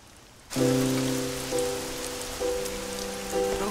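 Steady rain falls throughout, a broad even wash of patter under a sustained tonal drone that swells and restarts a few times after a quiet opening. No one speaks.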